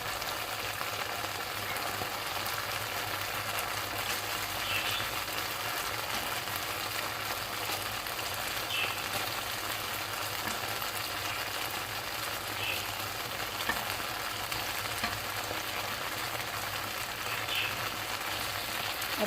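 Street-style saucy momos sizzle as they are stirred into a freshly cooked sauce in a pan. A faint, even frying hiss runs steadily throughout, with someone talking over it.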